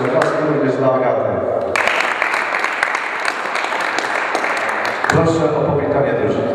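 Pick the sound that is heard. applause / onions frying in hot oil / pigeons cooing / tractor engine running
applause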